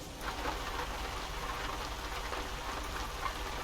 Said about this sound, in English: That rain sounds real good.